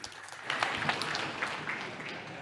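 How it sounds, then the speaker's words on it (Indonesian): An audience at a speech by a Balinese governor claps in a fairly faint, distant round of applause with a few sharper claps standing out, under a room murmur. "Tepuk tangan untuk warisan ini."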